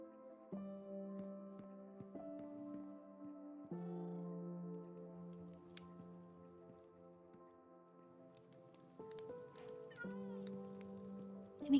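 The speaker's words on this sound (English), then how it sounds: "I love the cats so much, but they are quite loud." Minecraft cats meow in a game world, drawn-out tonal mews that shift pitch in steps over quiet background sounds.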